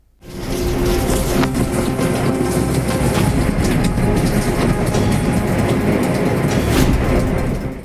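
A train rolls along in heavy rain, a loud continuous rumble of engine and wagons with rhythmic clatter throughout, heard close with no talk.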